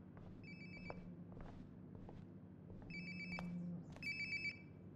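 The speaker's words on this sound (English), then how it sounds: "Sounds like my phone is definitely nearby." A cell phone rings nearby in the video game Life is Strange: Before the Storm, with repeated electronic ringtone bursts over quiet ambience and faint footsteps.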